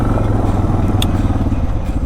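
Motorcycle engine droning steadily while riding on an open highway in West Texas, with a continuous rumble and wind noise throughout and no voices.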